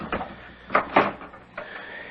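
A door in a radio mystery drama opens with a few close knocks and a rattling, creaking swing, heard alone in a quiet studio setting.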